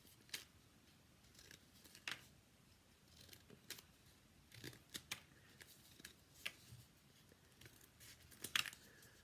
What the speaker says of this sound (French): il va simplement faire des triangles comme ça avec les ciseaux